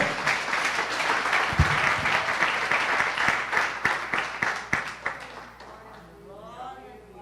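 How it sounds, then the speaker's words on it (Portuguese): A church congregation applauds during a sermon, loud massed clapping that thins into scattered claps and fades, with a voice speaking over the tail. "Dê uma salva de palmas ao Senhor."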